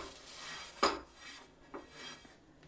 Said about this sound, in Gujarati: હવે તેમાં થોડુંક આ રીતે પાણી નાખી દેવાનું અને પછી તેને કપડાથી લૂછી લેવાનું